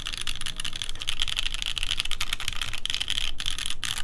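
Rapid, steady clacking of keys on a CannonKeys Brutal v2 65% mechanical keyboard with stock switches, close up, with brief pauses near the end and no voices.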